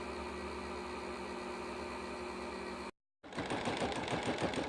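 A Singer Quantum XL 100 sewing machine winds a bobbin with a steady, close mechanical whir, then stops briefly and restarts with a busier, rhythmic motor hum. No one speaks.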